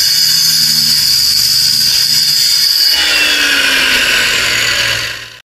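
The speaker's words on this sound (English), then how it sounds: "You can buy these special blades coated with diamonds that'll go on your skill saw and can cut concrete." A circular saw fitted with a diamond-coated blade cuts through a concrete paver, a loud, sustained whine and grinding that shifts in pitch partway through before cutting off at the end.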